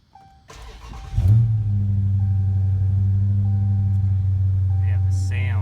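A 2016 Chrysler 300 SRT V8 cranks over and fires up around the one-second mark, then settles into a loud, steady, deep rumbling idle that holds to the end, with a brief faint voice near the close.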